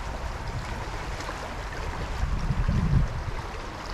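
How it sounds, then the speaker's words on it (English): Fast-moving stream water rushing over rocks at Brady's Run Park in spring: a steady, broad outdoor roar of flowing water with a slight swell in the middle, no voices. "that water is moving really fast"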